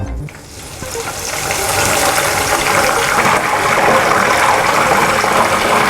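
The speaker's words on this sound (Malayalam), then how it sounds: "ഇനി നമുക്ക് അതേ എണ്ണയിലോട്ട് കറിവേപ്പില ഇട്ട് കൊടുക്കാം." Curry leaves sizzle loudly in hot oil left from frying green chilies, a steady dense hiss that swells after a brief quieter start and holds close and continuous with no voices.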